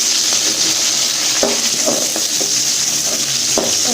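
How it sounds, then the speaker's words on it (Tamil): Mustard seeds, cumin, fenugreek, garlic, dried chillies and onion tempering in hot oil in a kadai, a loud continuous sizzle with scattered sharp pops and spatters, no voices. "ஒரு கடாயில் எண்ணெய் ஊற்றிட்டு கடுகு, சீரகம், வெந்தயம் சேர்த்துட்டு பூண்டு, காஞ்ச மிளகாய்"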